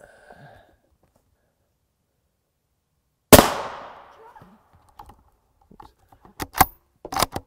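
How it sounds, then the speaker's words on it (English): A single sharp, loud rifle shot from a 22-inch TC Compass fitted with a JK Armament rifle kit cracks at close range and rings off, followed by scattered clicks and handling knocks. "This is a 22-inch TC Compass, still rocking the JK Armament rifle kit."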